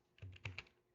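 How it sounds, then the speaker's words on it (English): Typing on a computer keyboard, three or four soft, quick key clicks close by in a quiet room. "we're going to type in"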